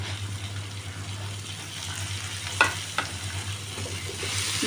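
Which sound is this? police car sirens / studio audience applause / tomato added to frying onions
tomato added to frying onions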